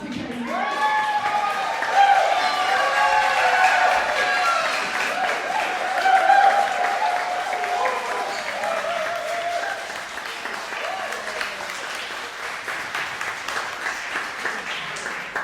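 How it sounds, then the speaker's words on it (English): Recital audience applauding a composer after premiere performances of new works, moderate clapping that stays fairly even and softer throughout, with tonal murmuring or voices mixed in beneath the applause. "let's also give like a preliminary round of applause to Chris, please."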